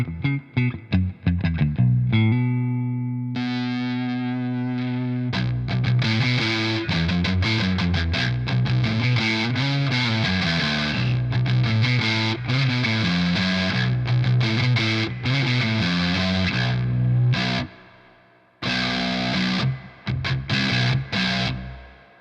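A heavily distorted, low-tuned baritone electric guitar through a Jam Pedals Rattler mk.2 distortion pedal plays sustained chords and riffs, loud and thick, with brief pauses and a short break near the end.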